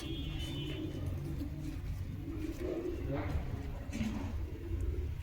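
A female Giribaj pigeon gives low, soft coos in short phrases, heard faintly beneath nearby talking.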